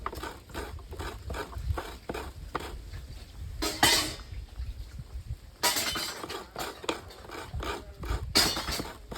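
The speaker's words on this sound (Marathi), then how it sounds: "सगळ्यात पहिले नारळ फोडूचा आणि कातूचा" A coconut being broken and its flesh grated in a home kitchen, a series of close scraping and knocking strokes with a few sharper cracking bursts, steady and rhythmic throughout.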